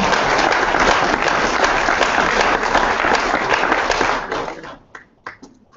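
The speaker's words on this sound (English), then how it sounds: "You can applaud." Dense, loud audience applause at an evolution versus creationism debate fills the hall steadily for about four seconds, then thins to scattered claps and fades out.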